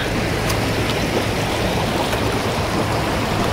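Strong river current rushing steadily at a riverside rinsing spot, a dense unbroken roar of flowing water close by with no voices.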